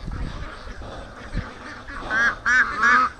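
Free-range ducks and geese at a swamp pond call out at feed time. Low rustling comes first, then a run of loud, close, nasal quacks and honks in quick succession.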